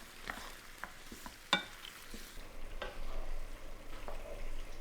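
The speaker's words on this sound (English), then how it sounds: "Stir it all together and heat through for 2 minutes" Cream and frozen peas stirred together in a pan for a comforting pasta dish, with soft scraping and spoon knocks against a low, steady simmer that builds and stays gently bubbling.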